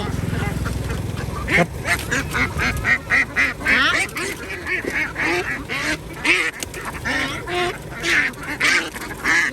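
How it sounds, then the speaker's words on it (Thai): Many ducks quack and honk in a noisy, overlapping clamor nearby as they are loaded onto a truck, with rustling and handling sounds and people talking amid the racket. "เออไอ้กำลังเอาเป็ดขึ้นรถอยู่นะ"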